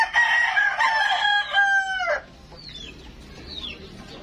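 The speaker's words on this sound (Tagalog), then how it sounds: "Sigig sabo ang mga manok." Roosters crowing at an outdoor grilling spot: one long, loud, close crow with rich harmonics, then a quieter stretch with a couple of faint, distant chirps.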